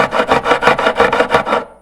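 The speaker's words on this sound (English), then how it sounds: "these ones are going to cut faster because I've got more material to file off over here" A file rasps across the metal frets of a handmade dulcimer guitar in eight quick, loud, evenly paced strokes, close up and alone, fading out at the end.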